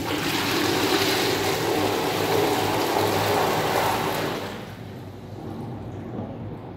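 A Britex toilet flushes in a strong rushing surge of water that runs for several seconds, then drops to a quieter trickle as the bowl refills.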